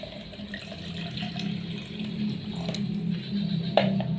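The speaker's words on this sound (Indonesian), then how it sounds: "Tuangkan air di dua tempat yang berbeda," Water pours into containers for a simple melting-ice experiment, making a continuous close trickle and splash that stays fairly soft throughout.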